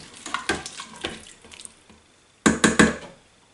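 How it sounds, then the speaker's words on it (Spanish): Prawn broth made from the shells and heads being poured into a pot of chickpea and artichoke stew, a couple of liquid splashes and trickles, then a louder pouring burst near the end, close up with no talking. "Le echamos el caldito que tenemos aquí, hecho con los cuerpos y las cabezas."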